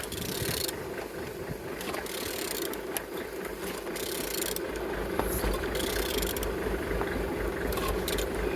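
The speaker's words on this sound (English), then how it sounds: "Engine is turning good." A 32V23 diesel engine turns over, its steady mechanical clatter and whirring running close and continuous at an even level, with no voices.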